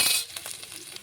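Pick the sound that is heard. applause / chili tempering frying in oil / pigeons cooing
chili tempering frying in oil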